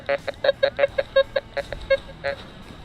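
Quick run of about a dozen short, pitched beeps from a Golden Mask 4 PRO S metal detector sounding its ferrous target tone, close and moderately loud, evenly spaced at first and then more irregular, with no talk over them.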